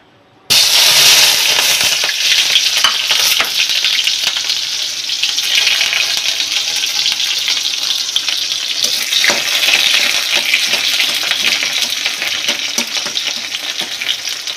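Eggplant pieces drop into hot oil for an eggplant and hilsa fish curry, bursting into a loud, dense sizzle that holds steady right up close, with faint clinks and no speech.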